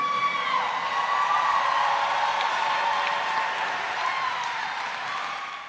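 Audience applause filling the room, steady and fairly loud throughout, a dense wash of clapping that fades a little toward the end.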